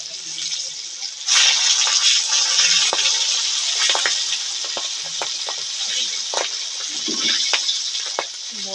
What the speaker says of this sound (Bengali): এই যে মাছটা ভাজবো, তেল ছুটছে বলে ঢেকে দিলাম।